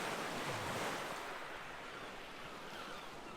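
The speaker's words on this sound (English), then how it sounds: "he listened to the soothing sound of waves crashing on the shore" Waves crash on a shore in a broad, hissing wash of surf that swells and then slowly eases, moderately faint and with no voices over it.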